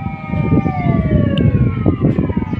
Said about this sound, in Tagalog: Na fire truck sa Barangay Inayawan, dali kay naka-responde.